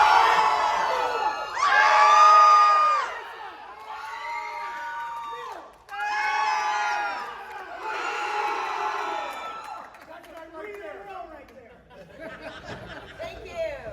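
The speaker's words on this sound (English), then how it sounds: "Make them cheer for you guys." The audience at a Terrifier convention panel cheers in several loud bursts of whooping and shouting, swelling and fading in waves before settling into scattered chatter.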